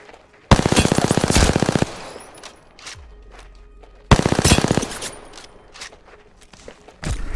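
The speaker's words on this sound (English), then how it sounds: "Shot fired, and they're hitting me." Video game gunfire comes in two loud bursts of rapid automatic shots, each lasting about a second, with quieter thuds and softer shots in the pauses between them.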